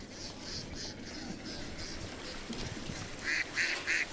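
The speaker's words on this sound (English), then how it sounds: "To his surprise, more and more mallards began arriving at the lake in the winter." Wild mallard ducks quack on a winter lake, the calls faint and somewhat distant at first, then a few louder, closer quacks near the end over a steady outdoor background hiss.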